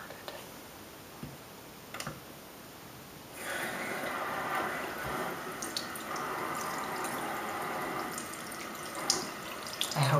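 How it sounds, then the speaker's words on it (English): Salon tap water runs steadily while hair is being rinsed, a soft, close hiss that starts after a few quiet seconds with faint clicks, then continues evenly to the end. "now I'm going to rinse your hair"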